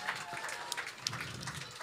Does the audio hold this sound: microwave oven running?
no